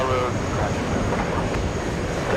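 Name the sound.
American Airlines Boeing 777 jet taking off to Paris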